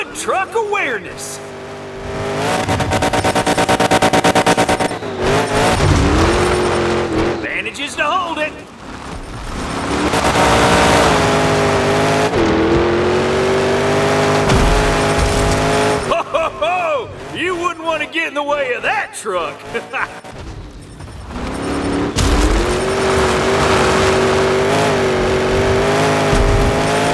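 Monster trucks in a Monster Jam Showdown video game roar continuously with loud, rising and falling engine revs and gear changes, mixed with crashes and game effects across a busy, dense soundscape.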